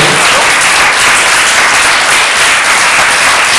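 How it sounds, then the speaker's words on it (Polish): A concert audience at a Polish charity evening of carols and original songs applauds the organizing committee and the performing artists. The clapping is loud, dense and continuous from start to finish, with no talking over it. "brawa dla Komitetu Organizacyjnego i artystów naszych wspaniałych."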